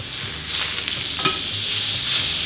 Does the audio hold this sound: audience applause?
no